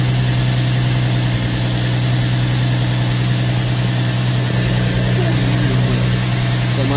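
A Nissan G35 engine idling after an oil leak repair, a loud steady drone with constant low hum and no change in pace throughout.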